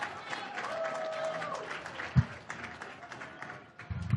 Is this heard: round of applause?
yes